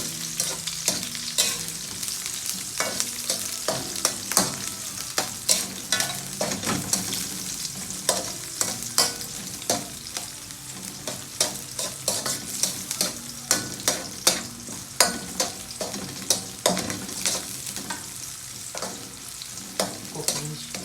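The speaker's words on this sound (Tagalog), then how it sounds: "ihalo na lang yung luya tsaka yung onion" Ginger and onion sautéing in a pan with garlic for Pinoy chicken afritada, a steady close sizzle broken by frequent sharp scrapes and clacks of a utensil stirring, continuous for the whole stretch with no talking.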